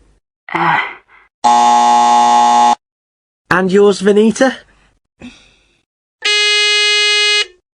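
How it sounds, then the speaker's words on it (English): Two flat electronic buzzer tones blare, each lasting about a second, separated by a sigh and a short spoken question. "they press any button on their phone and we'll hear a buzzer"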